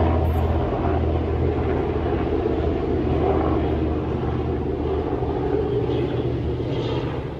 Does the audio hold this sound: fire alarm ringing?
no